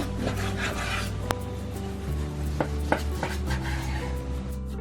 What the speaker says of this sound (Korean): 먼저 통삼겹살은 요리하기 편하게 적당히 3등분 해주세요.